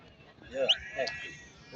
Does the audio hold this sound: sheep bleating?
yes